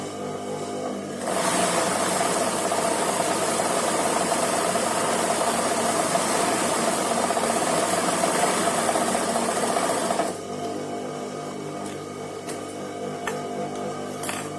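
Sewing machine running a long continuous stitch on a frock, a steady mechanical whir for about nine seconds, then dropping to a quieter hum with faint ticks.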